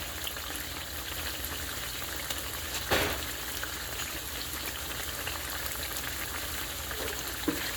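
Tofu pieces frying in a pan, browning and crisping at the edges, give a steady soft sizzle and crackle throughout, with one brief louder clatter partway in and no talking.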